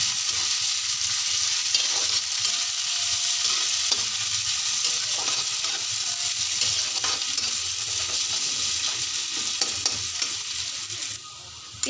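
Onions frying in oil in a pan as the base for bottle gourd peel fritters, a steady close sizzle with occasional stirring scrapes, continuous and without talk.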